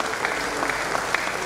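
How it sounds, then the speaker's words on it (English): An audience at a foundation presentation gives a brief burst of applause, dense and continuous clapping at close range with a few sharper claps standing out. "So please a round of applause"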